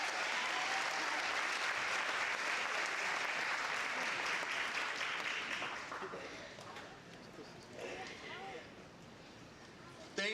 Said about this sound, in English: Another round of applause for our keynote speaker this evening.